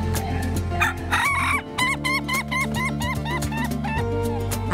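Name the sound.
laughing chicken rooster crowing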